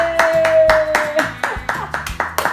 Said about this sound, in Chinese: 他也在拍手。